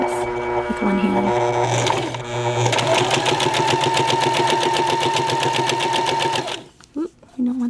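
Free-arm stitching on a sewing machine, working a placket on a small practice skirt. The motor whirs with a fast, even mechanical rattle for most of the clip, then stops, and a few short sounds follow.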